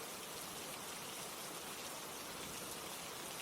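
Rain falls steadily as a dense, even hiss of drops on surfaces, constant and moderately faint throughout with no voices.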